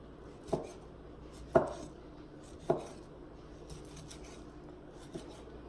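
A knife chops chicken and vegetables for gumbo on a cutting board, giving a few soft, separate thuds spaced about a second apart, faint and quiet in a calm kitchen.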